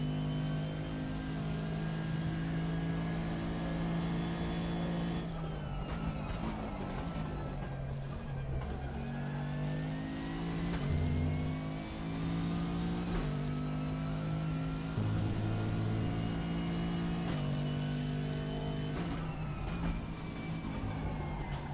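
A race car engine in the RaceRoom driving simulator drones and revs continuously, pitch climbing through gears with sharp shifts and lifts, steady and loud throughout with no speech.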